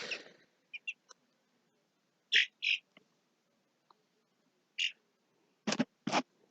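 Outdoor birds give a scattered series of short, clear calls in quiet surroundings: single chirps, paired hoots and two louder closing bursts, with silence between them.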